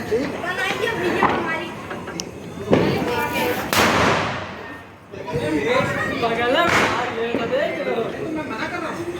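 Firecrackers set off by hand during Diwali celebrations in Lucknow, bursting in loud sharp cracks amid excited chatter and shouting from a group of people nearby.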